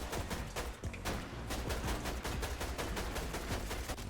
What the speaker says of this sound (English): So he's shooting at this guy.